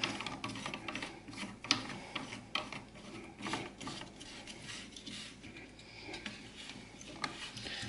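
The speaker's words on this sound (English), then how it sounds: "Next you want to put this white collar on and then your nut. And then we just need to nip it all up." Nut being tightened by hand onto a wash basin waste fitting with a white collar, giving a faint, continuous plastic rubbing and rasping, close and quiet, with no talk.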